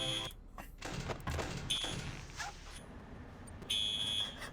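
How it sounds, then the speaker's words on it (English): A dormitory fire alarm goes off with high, steady electronic beeping tones in bursts, heard fairly close in a room with some thumps and background noise. "the fucking fire alarm went off in my dorm"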